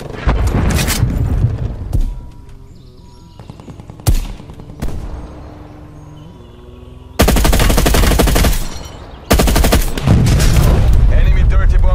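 Heavy automatic gunfire and sharp blasts from a dirty bomb detonation in the Call of Duty: Black Ops Cold War multiplayer match, loud bursts separated by quieter gaps, with a voice speaking between them.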